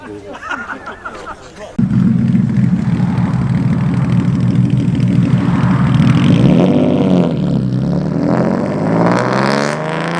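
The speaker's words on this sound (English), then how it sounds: "Stunning flat 6 powerhouse in this 911." A Porsche 911's flat-six engine fires up and revs loudly at a car meet, a sudden strong roar that holds steady and swells, close by, with some background murmur.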